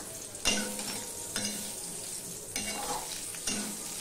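Brinjal (eggplant) pieces fry in oil with a steady crackling sizzle, broken by four distinct knocks of a spatula turning them in the pan, no voices.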